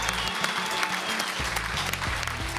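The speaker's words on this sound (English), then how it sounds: "Gets a nice ovation from the crowd, even from the players." Crowd applause, an ovation for a poker player at a tournament, brisk continuous clapping from many hands, loud and near, over a low musical bed.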